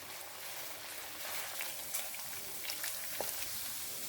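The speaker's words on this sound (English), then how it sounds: "I'm going to stir fry it, and I stir fry it till it's well cooked and fried." Seasoned chicken breast stir-fries in a pot for coconut fried rice, giving a steady, soft crackling sizzle with faint scattered pops throughout.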